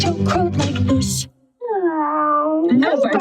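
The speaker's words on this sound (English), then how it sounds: "No, Bartolito, that's a cat" A single drawn-out cat meow rises and then falls, heard clearly on its own between stretches of someone talking.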